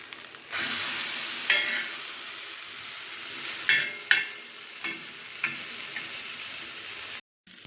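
Goat brain fries in hot oil with curry leaves, a continuous close sizzle broken by several sharp crackles and the scrape of a spoon stirring, before the sound cuts off abruptly near the end.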